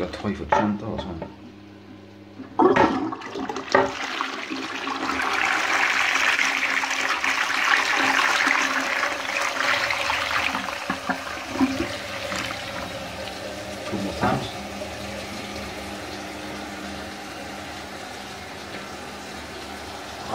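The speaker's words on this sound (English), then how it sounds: "I really love the flushing sound of it. I like how it flushes." A rushing toilet flush in a Neath, Wales house swells into a long, steady gush of water, then gradually settles into quieter refill trickling, with occasional voices and clunks over it.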